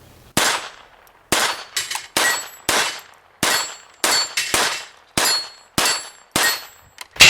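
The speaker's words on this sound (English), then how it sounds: "lots of fun shooting 22 at steel" .22 pistol bullets strike 8-inch steel plates at 15 yards, giving about ten sharp, ringing clangs in an uneven rhythm, each a crisp metallic ping that fades quickly, loud and close with no talk.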